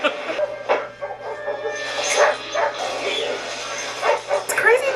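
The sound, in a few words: dog barking in a movie scene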